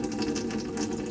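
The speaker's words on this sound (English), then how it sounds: "And we've got good pressure at the tap." Tap water running steadily in a Knaus Sun Ti MEG motorhome with the pump on, a continuous close, even rush with a faint pump hum beneath.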